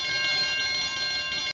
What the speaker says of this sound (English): there is an immediate notification to the current system and the alarm is raised